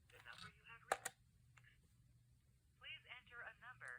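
The flash button on an iSoHo corded phone for seniors clicks sharply twice in close succession, followed by a faint beep, with someone talking before and after.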